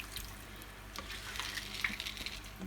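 Squid sauce and shiitake mushroom soaking water pour into a pot for Hakka-style red pork, a soft, close trickling and splashing of liquid that runs on steadily for a few seconds.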